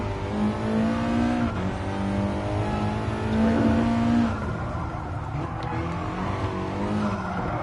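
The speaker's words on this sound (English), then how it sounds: "I can notice the turbos sounds and the sputtering" A racing car engine in the Gran Turismo Sport video game roars and revs with shifting pitch, steady and loud throughout, with brief dips as gears change, audible turbo sounds and a sputtering edge.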